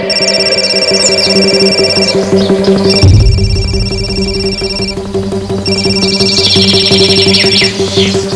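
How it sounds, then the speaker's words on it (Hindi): A mobile phone rings loudly and close, a repeating electronic ringtone melody that breaks briefly after about three seconds and resumes, with a low thump at the break. "मेरा फोन बज रहा है।"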